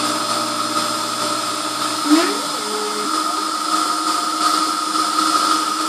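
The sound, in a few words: CNC milling machine drilling 2.6mm screw holes in engine backplate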